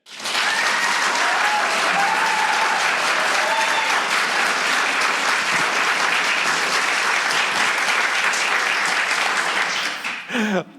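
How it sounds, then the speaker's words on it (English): A live audience applauds steadily for about ten seconds during a recorded show's vote on Agatha Christie screen adaptations, a dense, loud, sustained round of clapping that tapers briefly at the end. "give a round of applause if you believe Death on the Nile is Agatha Christie's greatest screen adaptation"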